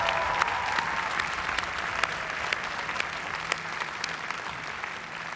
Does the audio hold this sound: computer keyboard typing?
no